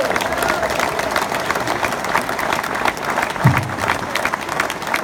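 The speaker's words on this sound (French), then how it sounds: "que je vous demande d'applaudir fortement" An audience in Guadeloupe breaks into loud, sustained applause, a dense wash of clapping with some cheering that carries steadily through the whole stretch.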